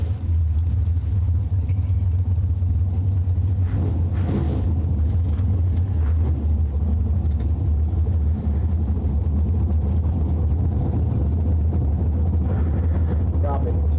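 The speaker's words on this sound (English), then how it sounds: "Good little drag race right there." Old-school bracket drag race cars run down the strip, a deep, continuous engine rumble heard from a distance while an announcer talks over it.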